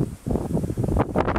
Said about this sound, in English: 30 mile an hour gusting winds, Jill's